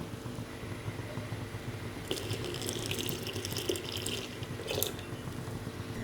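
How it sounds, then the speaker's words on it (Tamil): Milk being poured into a pot of moong dal cooking for sweet pongal, a steady liquid pour with splashing that grows busier midway and again briefly near the end, heard close with no talking. "இப்போ வந்து நம்ம எடுத்து வச்சுருக்கிற 2 கப் பால் இது கூட ஆட் பண்ணிக்கலாம்."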